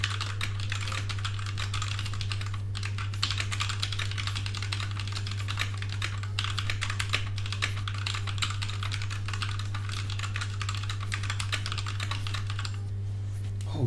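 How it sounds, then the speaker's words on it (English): Rapid, continuous typing runs on a freshly cleaned computer keyboard, with dense, close key clicks over a steady low hum for the whole stretch. "I'm going to be doing a quick typing test"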